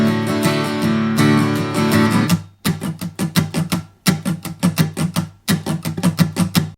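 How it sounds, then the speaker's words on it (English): Acoustic guitar strumming a simple country pattern: a few ringing chords, then steady rhythmic strums with bass-note and strum alternation, close and clear, no talk. "it is going to be a simply country strum pattern that's going to sound like this"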